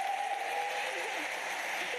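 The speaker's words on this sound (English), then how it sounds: "a huge round of applause for Yulia" A short burst of steady, dense applause from an audience at a live computer science class, an even hiss of many hands with a faint voice over it.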